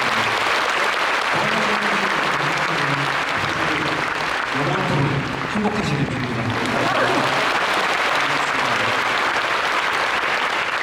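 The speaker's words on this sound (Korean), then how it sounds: "여러분들께서 박수로 이 호를 가득 채워주셔서 정말 너무너무 감사합니다" A concert hall audience at a Phantom Singer all-star gala applauds in a full, sustained roar that never lets up, while a voice speaks briefly over it partway through.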